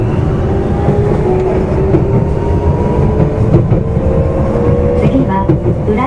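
A Tokyo Metro 05 series subway train rumbles steadily along the rails on a rapid service toward Toyocho, with a low, continuous drone and faint rhythmic clatter, close and loud throughout.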